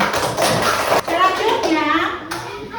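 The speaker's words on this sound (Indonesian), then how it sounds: "sekarang tepuk tangan untuk semua kelompok" A classroom of children claps together for all the groups, brisk rhythmic applause mixed with lively young voices chattering throughout.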